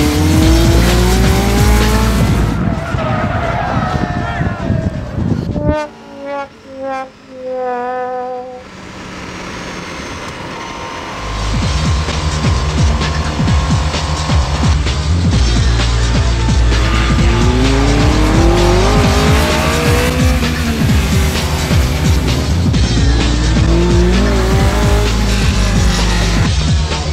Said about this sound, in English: Start spinning out.